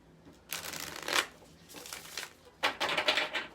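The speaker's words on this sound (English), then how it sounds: "We're going to give you 3 shuffles on this one." A tarot card deck is shuffled in three quick riffling bursts, crisp and close, with brief pauses between them.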